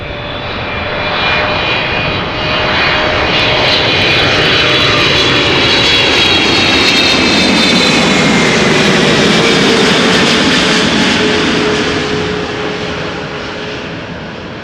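A Boeing 777-300ER in Orange Pride livery arriving from New York at Amsterdam passes with a loud, sustained jet roar that builds, holds broad and heavy, then slowly fades, with no voices.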